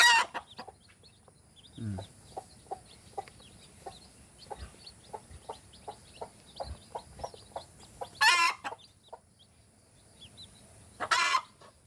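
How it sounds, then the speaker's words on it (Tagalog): Native chicken chicks at a farm making a run of short, high, evenly spaced peeps, close but soft, with a couple of louder clucking bursts from hens breaking in between and no speech. "nanunukuha yung ating mga bagong sisiw po"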